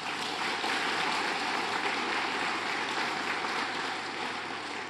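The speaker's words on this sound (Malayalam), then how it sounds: "ഒന്ന് കൈയടിച്ച് കർത്താവിനെ മാത്രപ്പെടുത്തുക" Sustained applause from a large congregation clapping to praise the Lord at a Christian prayer service, a dense, steady wash of hand claps filling the space evenly throughout.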